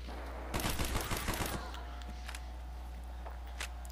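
Rapid gunfire bursts in the video game Black Ops Zombies, a dense close volley of shots lasting about a second, followed by a few isolated shots over a low steady game drone.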